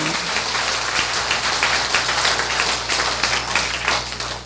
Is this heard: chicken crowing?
no